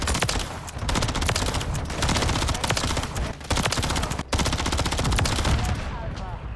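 Rival-9 submachine gun firing in Call of Duty MW3, a dense, continuous rapid-fire burst that stays loud and close throughout, with only brief gaps between strings of shots.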